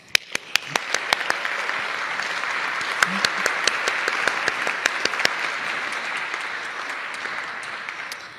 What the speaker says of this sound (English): But let us acknowledge them with a round of applause.